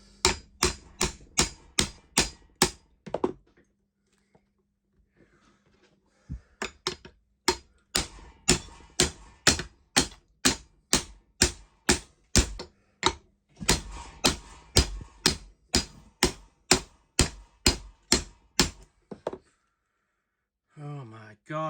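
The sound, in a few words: whacking an adjustable spanner against an impact driver collar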